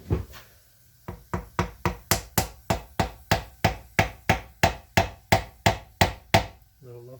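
Hammer tapping a reluctor ring into place on a front-wheel-drive manual transmission, about seventeen sharp metallic knocks in a steady, even rhythm, close and clear, with no talk.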